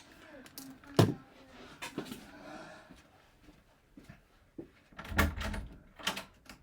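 A door opens with a few knocks and thumps, including a sharp bump near the start and another cluster a few seconds later, faint and close in a quiet room.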